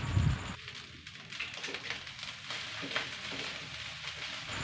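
Nasi goreng fries in a pan as it is stirred, a low sizzle with scraping and shuffling under it, one louder scrape at the start.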